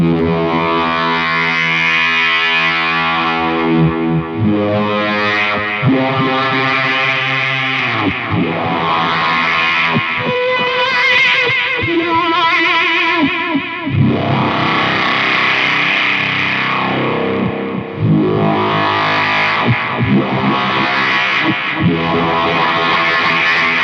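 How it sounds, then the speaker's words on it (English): A Moog-like synthesizer plays sustained, buzzy filtered tones with echo trailing each note, shifting pitch in a slow melodic line that stays loud and unbroken throughout. "So you feel like you're playing a Moog. So it's. Wow. And I really like that sound, especially with some echo."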